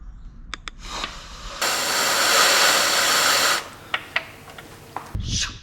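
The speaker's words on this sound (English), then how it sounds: "take a good old socket, put it right there, and just blow into it" Compressed air blasts through a socket into a Suzuki SV650 motorcycle drain hole in one loud steady hiss lasting about two seconds, bracketed by a few small clicks and handling sounds, close up.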